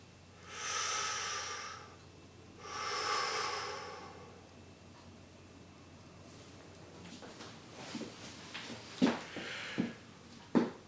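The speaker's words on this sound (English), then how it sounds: "Put your hands on your belt and feel the pressure as you breathe in and out" Two long, clear breaths in and out from someone lying on the floor, each lasting about a second and a half, followed by quieter rustling and small bumps as the body shifts on the floor.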